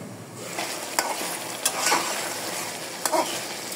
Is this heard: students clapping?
no